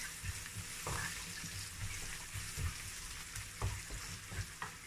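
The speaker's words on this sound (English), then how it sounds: "So I'm gonna allow the onions to cook for another about 1 minute more." Onions fry softly in a pan for sardine sauce, a faint steady sizzle broken by repeated low knocks and scrapes of stirring, with no talking.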